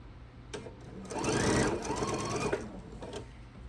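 A sewing machine stitching quilt block pieces together, a close, steady mechanical whir that speeds up for about a second and a half and then slows, with faint clicks before and after.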